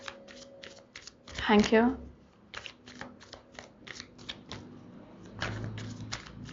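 Tarot cards being shuffled and drawn, a rapid run of soft papery riffling followed by sparse card taps and slides, close and quiet, with a brief spoken voice partway through.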